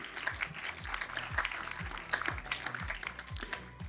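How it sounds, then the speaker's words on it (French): Applause breaks out at a customer satisfaction awards ceremony for brands on the podium, a fairly quiet crowd clapping throughout, with a low repeating rhythmic thump underneath. "On peut les applaudir, s'il vous plaît."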